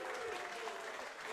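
A live audience at a hotel pub show in Fitzroy applauds contestants, a short, steady wash of clapping from the crowd with a voice faintly over it.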